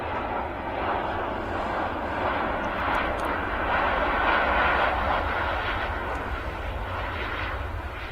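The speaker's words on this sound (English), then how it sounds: "There you go, Ryan 737 just touching down here in Manchester." Ryanair Boeing 737 touching down at Manchester Airport, a broad steady engine roar that holds loud and unbroken throughout, heard from a distance with no voices.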